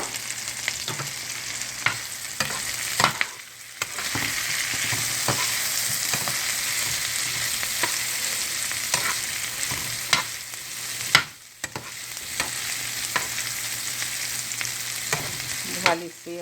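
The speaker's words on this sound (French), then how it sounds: "Et là, je vais rajouter mes champignons. Les champignons blancs coupés en deux." Halved white mushrooms fry with chicken gizzards in a pan for an Asian-style dish, giving a steady close sizzle broken by sharp clacks of stirring, with no talking.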